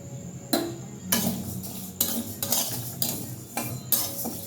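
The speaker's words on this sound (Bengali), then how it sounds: "এবারে আমি শুকনো খোলার মুগ ডালটাকে ভেজে নেব ভালো মতো একটু লাল লাল করে ভাজবো" Split mung dal dry-roasting in a pan for khichuri, with a metal spatula scraping and clinking against the pan in repeated strokes about every second over a faint sizzle.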